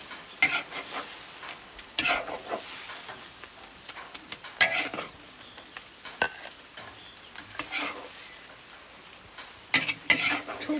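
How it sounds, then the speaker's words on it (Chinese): Chinese chives and eggs sizzle in a wok while a spatula scrapes and stirs in intermittent sharp strokes, the frying fairly quiet and close with no talk. "这个是韭菜啊，韭菜炒鸡蛋"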